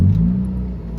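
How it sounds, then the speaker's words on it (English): A Toyota Echo's engine turns over and settles into a loud low rumbling idle, one continuous mid-pitched drone with no talking. "If my car will start."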